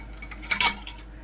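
Metal canning jar lids being picked up and handled in a kitchen while pressure canning red beans, giving a couple of light, close clinks and taps in an otherwise quiet room.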